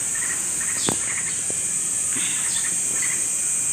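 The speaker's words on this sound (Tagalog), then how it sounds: "Yan yung sisiyo ng ibon." A baby bird chick chirps in short, high calls while practising to fly, over a constant shrill insect drone, with a couple of sharp brief clicks nearby.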